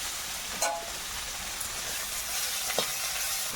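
Garlic, cumin and tomato fry in a pan with a steady, even sizzle and a couple of soft stirring scrapes.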